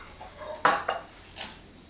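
Grated beetroot being mixed with sharp horseradish in a bowl: a sharp utensil clack against the dish followed by a couple of softer scraping strokes, close and quiet, with no talking.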